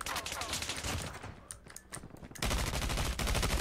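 Rapid automatic gunfire from Call of Duty Mobile played on a PC emulator: dense, continuous bursts of shots that briefly thin out, then return louder and heavier for the final second, with no talking.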